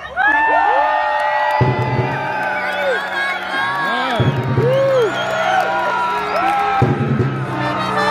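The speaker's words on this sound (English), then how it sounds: "Cheer for Sir Michael!" A large crowd cheers, whoops and shouts for a knight at a Renaissance festival joust in Larkspur, Colorado, with loud sustained cheering throughout and rising bursts of shouting, while an announcer's amplified voice calls over it at times.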